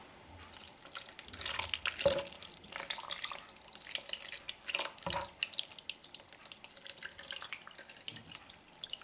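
Water poured into a pot over a layered rice dish, a mock cabbage-roll sarma, splashing and trickling in uneven bursts, close and moderately quiet, with no talking.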